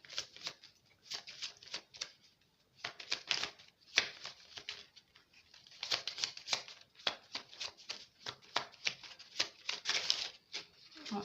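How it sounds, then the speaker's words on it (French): A deck of cards being shuffled by hand, in repeated bursts of crisp riffling flutter with short pauses between them, close up and without talk. "Si j'arrive à mélanger mon jeu."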